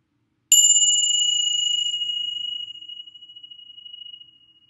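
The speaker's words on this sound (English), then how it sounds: "sound chime" One clear meditation chime is struck once, its bright ringing tone hanging alone and slowly fading over several seconds in silence.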